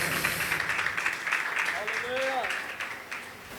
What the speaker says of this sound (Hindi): ज़ोरदार तालियों में खुदा के बंदे को वेलकम करेंगे